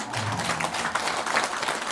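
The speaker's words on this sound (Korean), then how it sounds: "큰 박수로." Audience at a Buddhist dharma talk giving a steady round of applause, a dense patter of many hands clapping at moderate volume throughout.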